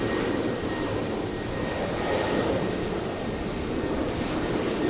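A Qatar Airways jet departs Brisbane Airport at night, its engines making a steady, broad roar that holds at a constant level throughout with no speech.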